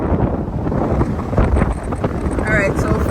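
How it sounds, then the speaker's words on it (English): Strong wind at the top of a lighthouse buffets the microphone in loud, rumbling gusts, with a brief voice near the end. "It's very windy."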